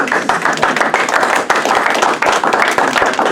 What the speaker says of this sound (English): Give Ms. Holly a round of applause real quick